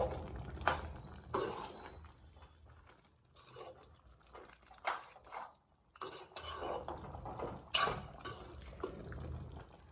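Guntur chicken curry being stirred in a pot, with soft wet squelches and scrapes of a spoon against metal coming in irregular, fairly quiet bursts.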